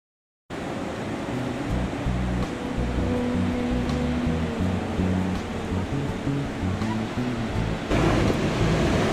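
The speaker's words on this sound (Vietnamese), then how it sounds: "bạn thấy đó là cái thác Horseshoe" Horseshoe Falls at Niagara on the Canadian side roars as a steady, dense rush of falling water, broad and continuous throughout with no voices over it.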